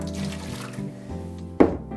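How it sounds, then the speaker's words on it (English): Hot water is poured away while a hot toddy with cinnamon and ginger is made: a quiet, steady liquid trickle and splash running under room hum, with a brief louder slosh near the end. "Just get rid of this hot water"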